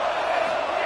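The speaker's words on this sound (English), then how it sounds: "We knew this crowd would make its presence felt, and they are doing so in a big spot" Roaring stadium crowd cheering at a football game during a big defensive moment, a loud, sustained wall of voices with no pauses across the brief moment.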